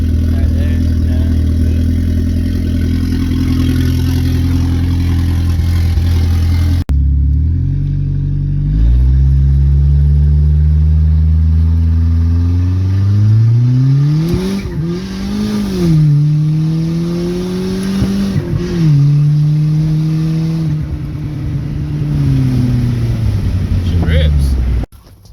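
An Eagle Talon TSI with an upgraded 20G turbo revs hard while driving, its engine note climbing and dropping through several loud, sweeping pulls after a brief cut, heard alone without talk.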